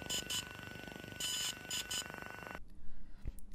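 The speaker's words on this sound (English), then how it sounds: "the beeping will change. It will sound more like this." A DJI Phantom 3 drone beeping after a firmware update, a repeating pattern of bright electronic tone bursts in short groups, then a sudden cutoff leaving quiet clicks and handling noise.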